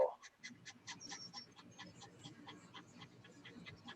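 A Blendtec blender blends thick sea moss at high speed in one loud, steady whir, its pitch dipping slightly as the mixture churns, with no talk.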